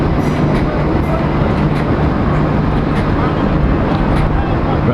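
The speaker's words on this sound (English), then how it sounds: "there's 2 trains in the station now." Trains stand and run at Lewes railway station in Sussex, a steady loud rumbling rail and engine drone with a low hum filling the whole stretch, with faint voices underneath.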